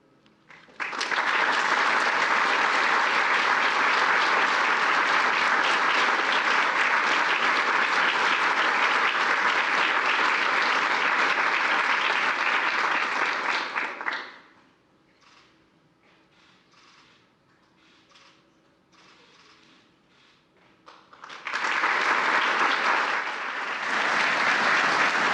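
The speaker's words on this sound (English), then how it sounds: "I'd like to give one last round of applause to the recipients" Sustained loud applause from an audience at a Medal of Valor ceremony, a dense wash of clapping that stops, gives way to a quiet murmuring pause, then swells again.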